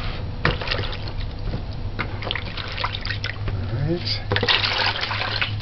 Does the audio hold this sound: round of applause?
no